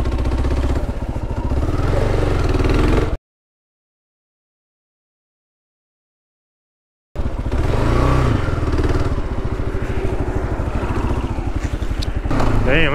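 A Kawasaki KLR motorcycle rides off-road with a steady, mid-pitched engine chug and rattling clatter, close and continuous, cut by a few seconds of complete silence before the engine noise resumes with a voice speaking over it.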